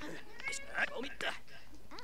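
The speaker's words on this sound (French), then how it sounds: "Et ma chatte qui commence à miauler." A cat meowing in The Sims 4, a few short game meows in quick succession over a soft background, with no talking over them.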